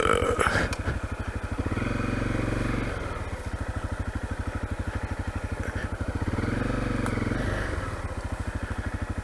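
A Honda CRF250L dirt bike idles and revs gently while turning around, a steady close thumping engine note rising and falling twice, with faint clatter.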